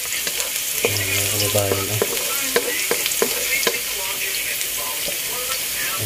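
Garlic and other food frying in a pan while being stirred, a continuous close sizzle broken by sharp scraping clicks from the utensil, with someone talking briefly over it.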